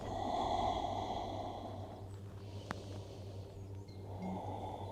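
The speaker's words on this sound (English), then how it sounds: "Just a few deep breaths." Slow, deep breathing during a yoga flow, a long airy exhale followed by a softer inhale, close and steady over a faint background hum, with no talking.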